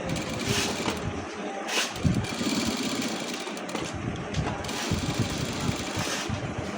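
Close, continuous mechanical whirring of a sewing machine stitching a side pocket on shorts, running in bursts with short pauses as it lays a double row of seams.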